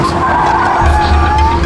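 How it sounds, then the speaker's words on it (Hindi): A car skids to a stop on a road trip from Pune toward Mumbai, with a loud, sustained tire squeal and rumbling over the whole moment. "एक मिनट, गाड़ी रोको।"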